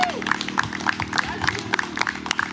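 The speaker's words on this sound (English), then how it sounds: "Round of applause for all the speakers." Crowd applause and scattered claps at an outdoor billboard reveal rally for justice in Vallejo, California, a sustained mid-level patter of many hands lasting the whole moment with some voices mixed in.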